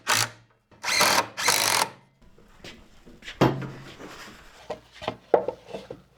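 A power drill drives screws into wood fence pickets in three quick, loud whirring bursts. Quieter clicks, knocks and handling noises follow.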